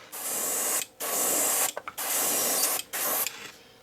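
Bursts of spray paint hiss loud and close as a second black coat goes onto a handmade topwater fishing lure, four long sprays separated by short pauses.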